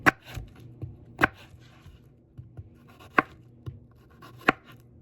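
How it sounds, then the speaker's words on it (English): A knife slicing an English cucumber into matchsticks on a cutting board, a handful of sharp, close taps at an irregular pace with quiet gaps between them. "Cut our cucumber in half, and we just make little matchsticks."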